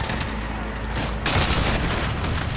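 Gunfire in Call of Duty Modern Warfare, a dense burst of game shots and booms that swells louder halfway through, with faint speech mixed underneath.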